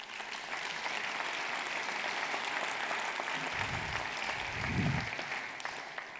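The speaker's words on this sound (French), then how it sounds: "je voulais vous les remercier par vos applaudissements" A ceremony audience applauds to thank agents at a 2026 New Year's greetings event, steady sustained clapping from a large crowd, evenly loud throughout.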